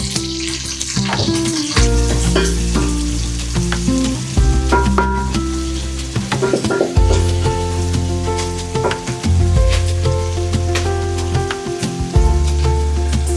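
Onions frying in a hot pan, a steady crackling sizzle with occasional clinks and scrapes of stirring throughout, close and clear with no talking.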